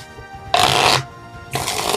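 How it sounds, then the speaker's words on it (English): A deck of regular playing cards is riffle-shuffled twice, each pass a dense, crisp flutter of about half a second, loud and close, separated by a short quiet pause. "Let's see how they shuffle."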